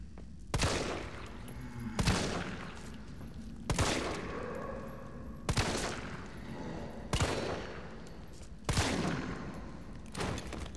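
Heavy gunshots in Resident Evil 3 during a fight with a rabid dog, six loud, evenly spaced blasts about one and a half seconds apart, each with a ringing tail.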